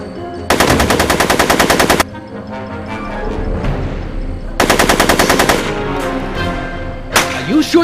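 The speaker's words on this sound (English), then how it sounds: "Are you shooting at me?" Bursts of rapid automatic gunfire in Back to the Future: The Game, two long loud volleys and a short third burst, with game sound and faint chatter between them.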